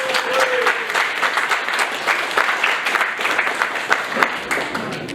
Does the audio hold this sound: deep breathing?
no